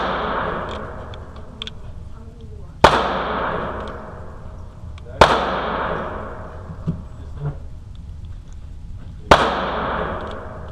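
Three loud, sharp gunshots from a Mauser Parabellum P08 Luger pistol crack out a few seconds apart on an outdoor range, each followed by a fading echo.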